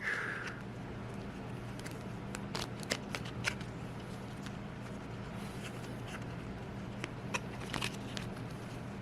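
A deck of cards is shuffled by hand at a tabletop miniature wargame, giving soft repeated riffling snaps and flicks in short bursts over a low steady background hum.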